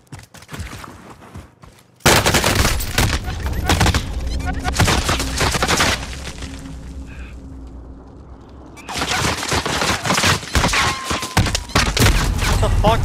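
Rapid bursts of M13 assault rifle fire in Call of Duty: Warzone Pacific crackle loud and close for most of the stretch, with a brief lull in the middle and dense shots resuming near the end.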